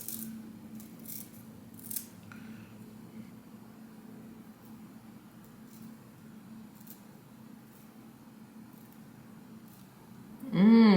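Scissors snipping wig lace to shape baby hair on an auburn 24-inch closure wig, a few faint crisp snips over a low steady hum, ending in a louder burst of noise.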